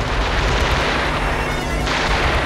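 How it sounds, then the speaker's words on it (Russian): Gunfire heard at night in war-damaged Grozny. A dense, loud barrage of cracks and booms fills the whole short stretch, with no pauses and no voices. "По ночам слышны выстрелы."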